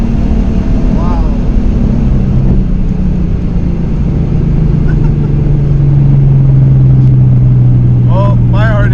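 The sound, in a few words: Procharged 2014 V6 Mustang accelerating with short shifting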